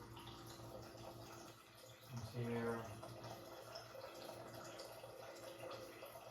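Water is poured into a pot of sour cream onion soup, a short splashing fill rising over steady kitchen background noise, with a person speaking briefly.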